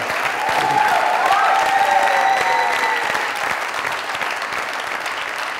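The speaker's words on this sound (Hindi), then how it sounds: "जोरदार ताली" Audience applause at a live comedy show, a sustained burst of clapping from a studio crowd that swells and then gradually fades over a few seconds.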